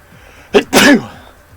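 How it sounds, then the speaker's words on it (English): A single loud, close sneeze with a short sharp intake followed by an explosive burst, then quiet. "I'm going to sneeze, though."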